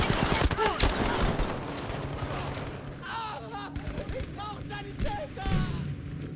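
Artillery and gunfire in the Battlefield V video game: dense bursts of shots and booming blasts, loud and close at first, then continuing beneath shouted voices.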